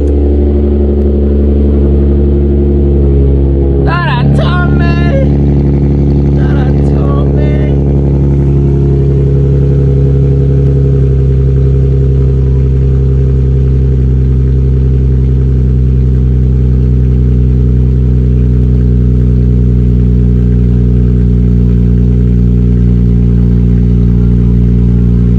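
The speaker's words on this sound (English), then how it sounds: "I'm about to cold start that G35 right now" Infiniti G35 car engine cold starting with a brief burst of revving, then settling into a loud, steady low idle that continues alone for a long stretch.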